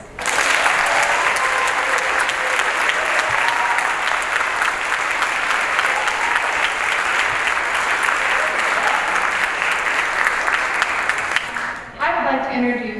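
An audience at a middle school all-county chorus concert applauds steadily for about twelve seconds, a dense, even patter of clapping that stops abruptly before a voice begins speaking.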